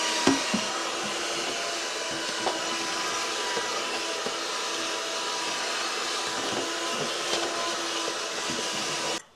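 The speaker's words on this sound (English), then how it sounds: "this Bell & Howell vacuum was working" A Bell & Howell car vacuum fitted with its crevice tool runs in a steady, loud whooshing drone for about nine seconds, then cuts off abruptly at the end.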